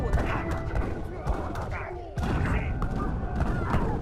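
Cannon fire in the Age of Empires III video game, a cluster of dull booms and thuds over busy battle clatter, with someone talking throughout.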